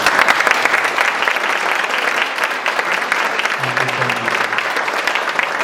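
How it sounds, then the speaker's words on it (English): A forum audience applauds after a voters' education panel, dense even clapping filling the room for several seconds with a brief low voice underneath partway through. "let's give them another round of applause"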